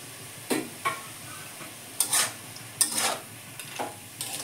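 Spiced ash gourd and bori being stirred in a pan, with scattered scraping strokes and a soft sizzle in a quiet kitchen.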